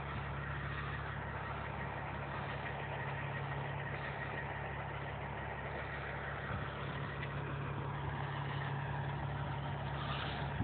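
A truck with a Caterpillar diesel engine sits idling, producing a constant low, throbbing hum at a steady, even level from start to finish with no talking over it.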